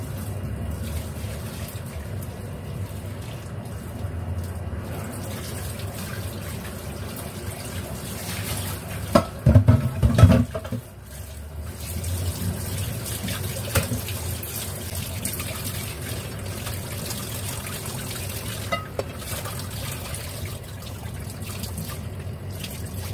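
Pork bones get rinsed under a running kitchen tap, a steady close stream of water with a brief burst of louder splashing and clattering partway through as the bones are handled.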